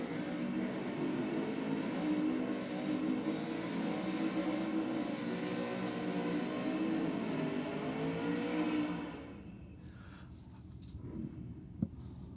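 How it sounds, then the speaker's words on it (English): At Sydney Dragway, a drag car doing burnouts gives a sustained, loud roaring engine rumble that ends abruptly and drops back to quieter background noise with a sharp pop near the end. "Burnouts we have."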